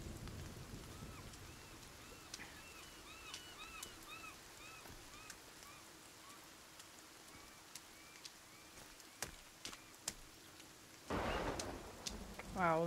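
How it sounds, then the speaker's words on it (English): Heavy rain patters steadily in the video game Sons of the Forest, with scattered sharp clicks and a louder rumbling surge of storm noise near the end. "that's a lot of rain today"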